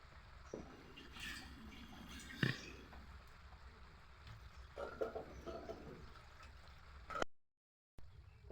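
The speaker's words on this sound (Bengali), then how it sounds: "কিন্তু দেখুন ফুটেছে।" Water boiling in a pot with potatoes and freshwater snails (gheri), a soft, steady bubbling and simmering with faint irregular pops, fairly quiet, with no talk.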